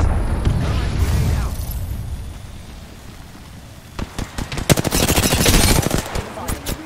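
Gunfire in Apex Legends, a rapid burst of sharp automatic shots near the end that follows a stretch of steady rumbling noise, loud and close.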